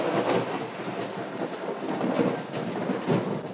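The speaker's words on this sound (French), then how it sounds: "Ah oui, là, j'entends l'orage." A thunderstorm rumbles outside during heavy rain, a continuous broad roar of rain and distant thunder with no voices.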